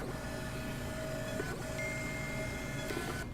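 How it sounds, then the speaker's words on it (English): A label printer steadily feeds out church check-in labels, a whirring mechanical hum with thin tonal whines that stop and restart twice over a few seconds, close and without talk. "And the labels just come right off."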